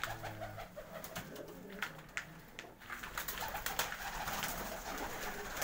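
Several breeder pigeons coo in overlapping, repeated soft calls close by, with scattered sharper bird noises and occasional rustling throughout.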